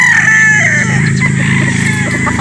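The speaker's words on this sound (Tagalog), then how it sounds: "Napakagandang manok ito mga bossing." A game fowl rooster at a game farm in Batangas crows loudly and close by, one long sustained crow filling the clip over steady farmyard background noise.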